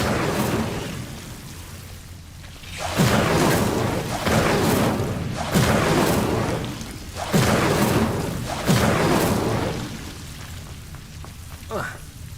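Fire spell Incendio cast repeatedly in the Hogwarts Legacy video game against Devil's Snare: a series of five loud, roaring whooshes about a second or two apart, each flaring up and trailing off.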